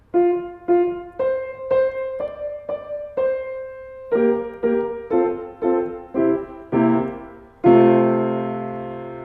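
A piano plays a sequence of sustained chords, each struck separately in steady rhythm, closing on a second-inversion chord that rings out with an unresolved, unsettled quality.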